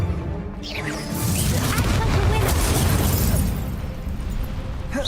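The Expelliarmus spell in Hogwarts Legacy bursts out as a loud, sustained blast with a whooshing, crackling rush that swells and then fades.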